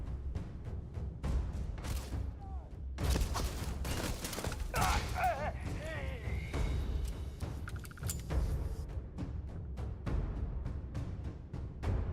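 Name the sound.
gunfire in the video game Starfield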